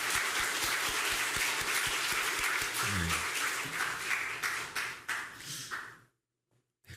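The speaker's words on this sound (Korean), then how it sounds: "우리 박수로 환영하도록 하겠습니다" A church congregation applauds to welcome a new member during a Sunday service, sustained moderately distant clapping that thins out and stops near the end, leaving brief quiet.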